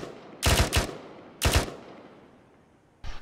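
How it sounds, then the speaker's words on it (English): A machine gun in the video game Arma 3 fires tracer rounds in three short, sharp bursts with rapid shot trains, loud and close, each trailing a fading echo, with a fourth burst starting at the very end. "I'll fire rounds where I last shot EI."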